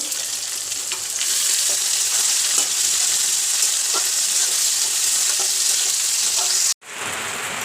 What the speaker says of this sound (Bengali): এইবার দিয়ে দেব টমেটো কুচি আর একটু নুন দিয়ে দেবো তাতে টমেটোটা ভালো মতো ভাজা হয়ে যাবে